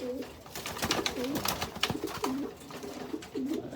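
Pigeons cooing close by in a repeated, rolling throaty pattern, several coos over a low, steady background, with no voice over them.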